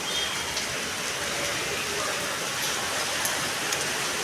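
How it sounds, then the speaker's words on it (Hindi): Heavy rain pours down in a steady, dense hiss, even and unbroken throughout, with no voices over it. "देखो इतनी अच्छी बारिश हो रही है।"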